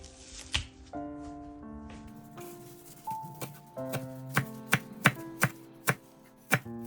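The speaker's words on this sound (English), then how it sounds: "First, finely chop fresh chives and dill." A knife finely chops fresh chives and dill on a board in a regular run of crisp, close taps that grow steadier and sharper toward the end, over soft background music with sustained tones.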